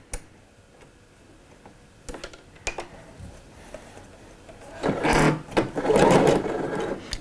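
A domestic sewing machine stitches the front of a pair of shorts, with a few ticking clicks of fabric positioning first, then loud close bursts of rapid mechanical whirring.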